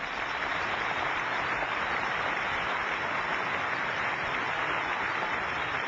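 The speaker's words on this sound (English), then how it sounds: "yes, you can applaud it" A conference audience applauding steadily throughout, dense clapping that stays even without letting up, heard from a moderate distance.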